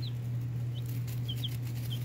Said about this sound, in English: Little leghorns. It's really a strain of chicken that deserves a lot of respect.